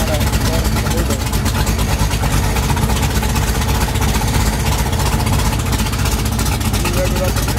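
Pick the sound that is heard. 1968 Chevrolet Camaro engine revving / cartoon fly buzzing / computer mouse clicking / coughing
1968 Chevrolet Camaro engine revving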